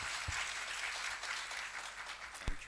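An audience at a governance forum in Pakistan claps for a question, a quiet, steady patter of applause heard from a distance that continues for a few seconds, with one sharper knock near the end.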